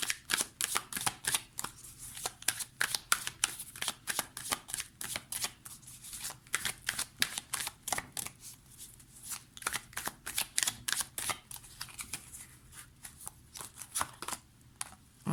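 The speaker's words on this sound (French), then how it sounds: "on va prendre quelques cartes de l'oracle bleu" Blue oracle cards riffled and shuffled by hand in a steady stream of quick papery flutters and soft taps, close and fairly quiet throughout, with no voices.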